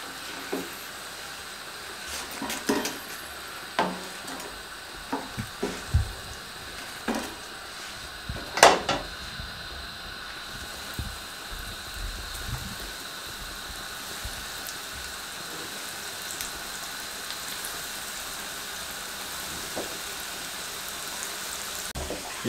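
Potato nuggets frying in a pan of oil make a continuous soft sizzling hiss, broken by occasional sharp pops and crackles, mostly early on, with no talking.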